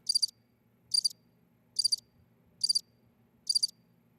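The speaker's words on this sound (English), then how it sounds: "Silence. Crickets." Five evenly spaced bursts of high, rapid cricket chirps over a faint low hum, steady and regular.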